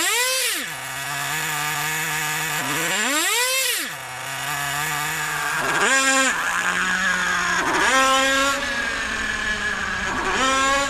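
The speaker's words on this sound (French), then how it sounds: "Si le mélange est trop pauvre à basse vitesse, le régime moteur augmentera au ralenti" Nitro RC car engine running with a lean fuel mixture, a loud buzzing whine that surges up and drops back in repeated revving swells, alone and close by.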